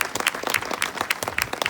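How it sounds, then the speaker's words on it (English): Wedding guests applaud after a father-of-the-bride speech, a steady wash of dense clapping with no voices rising above it through the whole short stretch. "Yeah, we can applaud for that"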